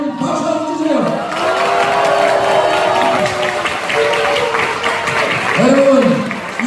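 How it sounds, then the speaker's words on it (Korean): Audience at a Korean political town-hall event in Incheon breaks into sustained applause and cheering, a loud, steady crowd roar with a voice speaking over it through much of the stretch. "박수 한번 주세요."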